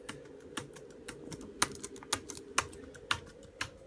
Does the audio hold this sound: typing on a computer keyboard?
yes